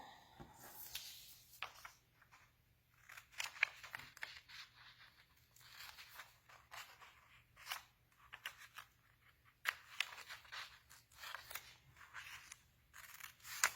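Scissors snip through paper along a zigzag line, a quiet, irregular series of short crisp cuts and rustles, close and faint with no talking.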